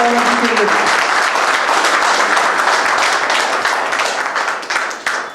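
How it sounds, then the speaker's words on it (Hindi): Loud, close applause from an audience at an event, a burst of vigorous clapping with a brief voice at the start, tapering off toward the end. "राकेश सर के लिए भी एक जोरदार ताली हो जाए।"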